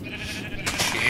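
Sheep bleat in the Tekkit Lite Minecraft modpack game, a single short bleat rising near the end over a low game background hum, close and moderately loud.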